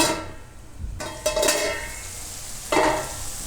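Mixed vegetables for sabudana khichdi sizzle and fry in a pan, with a steady hiss broken by a few louder bursts of stirring.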